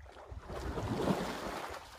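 A burst of rushing water plays at Chincholi Wildlife Sanctuary in Karnataka as a broadband, wind-like swell that rises and stays fairly steady for about two seconds, with no voices over it.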